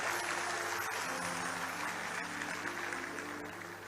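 Steady applause from a seated audience at a poetry recital, a dense patter of clapping that carries on evenly throughout, moderately loud with a low hum underneath.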